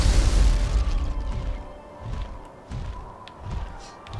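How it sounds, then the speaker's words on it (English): Explosions and booming impacts in Drakan: The Ancients' Gates, a heavy low rumble at the start, then a series of repeated dull thuds and bursts fading in and out over continuous game noise. "Lots of explosion-y things."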